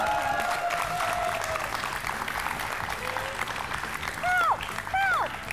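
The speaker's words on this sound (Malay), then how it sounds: "Bagilah tepukan sikit untuk Iris." Audience at a Malaysian children's game show applauds contestant Iris, a steady wash of clapping with a host's voice and other voices cutting in near the end.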